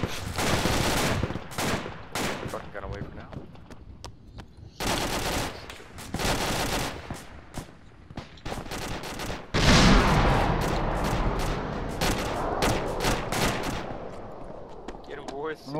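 Bursts of gunfire echo through a military shooter game, with rapid automatic volleys and single shots coming in clusters, some close and loud and others further off, while people talk over the fighting.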